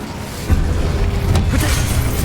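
Confringo and Incendio spell blasts in Hogwarts Legacy sound as a burst of fiery booms and crackling impacts that sits under steady battle noise, with one sharper hit partway through.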